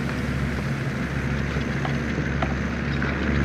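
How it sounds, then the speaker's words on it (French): A tractor engine in Farming Simulator 17 revs steadily at a constant high drone, loud and close, with no voices. "on fait monter le régime moteur"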